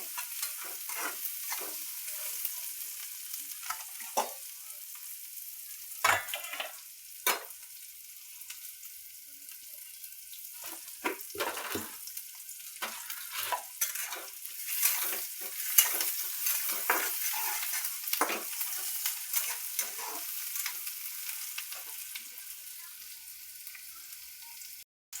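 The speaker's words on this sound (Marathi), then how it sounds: "भाजला का कांदा, कसा भाजायचा बघा, कच्चा राहू द्यायचा नाही कांदा" Onion fries in a pan with green chili and coriander, producing a quiet sizzle broken by repeated scraping stirs and spatula knocks, close but low in level, alone without speech.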